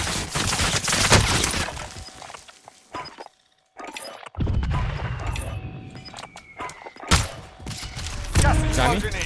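Gunfire in the video game Call of Duty Warzone, rapid bursts of shots with a brief lull in the middle, mixed with game sounds and players talking.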